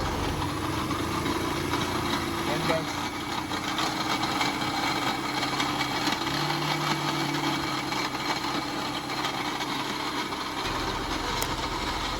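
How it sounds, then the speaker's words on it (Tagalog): A noisy Yamaha SZ150 motorcycle engine idling close by, a steady mechanical rattle and clatter over a low hum that runs unbroken throughout, with a brief spoken remark near the start. "Sobrang ingay ng makina niya."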